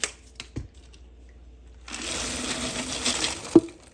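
Planters peanuts pour into a Crock-Pot, a brief clatter of nuts followed by a longer rattling, hissing stream and a final thud.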